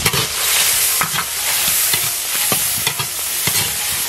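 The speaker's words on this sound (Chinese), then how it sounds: "来点豆瓣酱，炒出红油" Chili bean paste stir-fried in hot oil over a charcoal fire, a steady bright sizzle with repeated scraping strokes of a spatula every half second or so, close and loud throughout.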